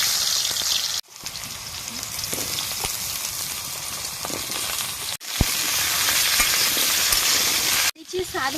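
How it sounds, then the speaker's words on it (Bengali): Potato pieces dropped into well-heated oil for aloo dum sizzle loudly and continuously, with the bubbling hiss broken by a few short gaps. "তেল ভালো করে গরম হয়ে গেছে। এবার আলু এক এক করে তেলের মধ্যে ছেড়ে দেব।"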